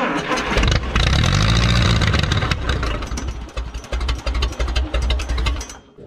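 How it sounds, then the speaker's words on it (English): A 1957 Case 310 Terratrac loader's old diesel engine cranks, catches and roars loudly, then settles into a rough, rattling idle with uneven knocking pulses close by. "That was running. It was idling"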